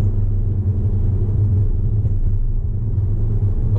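A Volkswagen Golf 7R in race mode with the gearbox in D accelerates, heard from inside the cabin as a loud, steady, low engine rumble with no speech.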